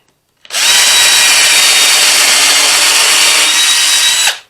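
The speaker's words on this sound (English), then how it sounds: "I'm going to put 2 screws in from the back into the front." A drill drives a screw into pine wood in one sustained, loud whirring burst of about four seconds, starting and stopping abruptly with silence before it.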